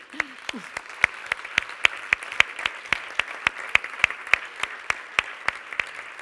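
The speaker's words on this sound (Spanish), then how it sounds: "vamos a darles un aplauso colectivo también" At a public meeting with citizens held by a health research institute, the room gives a collective round of applause for a panel. The clapping is fairly quiet and thin, a run of crisp, evenly spaced claps at a steady rhythm.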